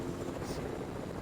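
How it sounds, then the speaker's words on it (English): A helicopter in a video game gives off a steady, faint whirring rotor drone for just over a second, with no gaps or changes. "I wish there was a way to like not have helis make noise."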